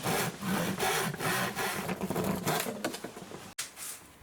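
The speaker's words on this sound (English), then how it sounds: "Thus I cut out more pieces of 4 millimeter plywood." Rhythmic back-and-forth sawing through 4 mm plywood, strokes repeating in quick pulses at close range, with a brief pause near the end.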